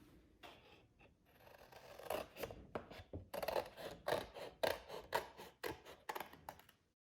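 Scissors snip through paper for an Easter cross craft, a steady run of quick, close, crisp cuts that speed up into a rapid rhythm before stopping.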